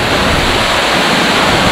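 Kabaragovidola Falls pours down in a loud, unbroken roar of falling water, close and steady with no pauses for its whole length.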